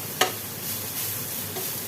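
Grated carrots sizzle in a hot pan as a utensil stirs them, a steady close hiss with one sharp scrape near the start.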